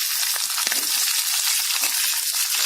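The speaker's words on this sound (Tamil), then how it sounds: "இப்போ கடுகு வெடிச்சிச்சு. பச்சை மிளகா ஆட் பண்ணிக்கலாம்." Mustard seeds and green chillies fry in hot oil with a bright, continuous sizzle and scattered crackles, close and steady throughout.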